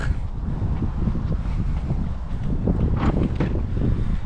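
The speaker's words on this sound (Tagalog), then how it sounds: "malamig na malakas pa ang hangin" Strong, cold wind blowing steadily beside a truck on a farm in Canada, a low rumbling gust with some buffeting against the microphone, fairly loud and constant.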